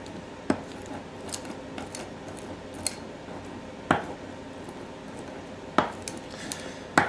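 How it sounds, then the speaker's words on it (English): A knife rock-chopping leftovers on a cutting board, sharp clacks of the blade against the board that come at irregular intervals over a low background hum, close and fairly loud, with no talking. "So I'm just gonna rock and chop this baby"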